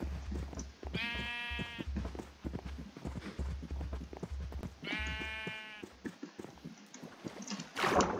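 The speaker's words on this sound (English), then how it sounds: "Oh my god, these sheep." Minecraft sheep bleating twice, each a clear wavering bleat separated by several seconds, over steady clip-clop footstep sounds from the game.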